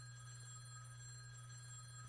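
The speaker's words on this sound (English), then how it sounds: "The ringing from the phone jolts me up to my feet." An old, worn-down public phone booth telephone rings with a steady electronic tone that holds unbroken for about two seconds. The sound is faint and thin against a constant low hum.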